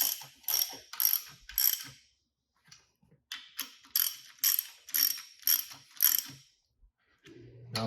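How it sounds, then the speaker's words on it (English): A ratchet wrench clicks in quick bursts while the clamping plate bolts are snugged down during a Radial Pro install, two sets of close, crisp ratcheting strokes split by a short pause, then a soft thud. "snug down the clamping plate bolts, all 4 of those"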